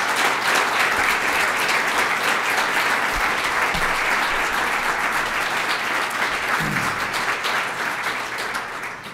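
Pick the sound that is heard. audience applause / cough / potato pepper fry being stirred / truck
audience applause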